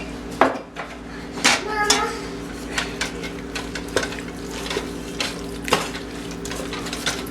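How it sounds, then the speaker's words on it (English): Spaghetti sauce is stirred into strained spaghetti in a pot, with close metal utensil scrapes and clanks against the pot at an irregular pace over a faint background sizzle. "And just stir it till your spaghetti is covered."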